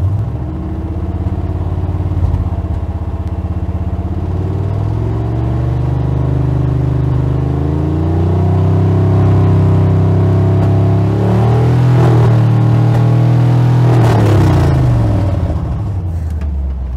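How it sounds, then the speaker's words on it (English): A car engine idles and then revs after its high pressure oil pump was swapped for a standard pressure one, a loud close rumble rising and falling through several long revs. "So we're gonna let it warm up a little bit and then start giving it some revs"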